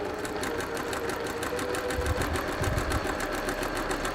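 Sewing machine stitching a fabric piece down in a craft workshop, a fast, even mechanical chatter running steadily and close throughout.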